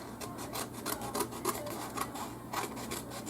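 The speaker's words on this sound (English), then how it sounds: "now I'm going to take my scissors and cut around this white" Scissors cut around the white border of card stock for a heart-background papercraft card: a close run of short, rasping snips repeating in an uneven rhythm, with no talking.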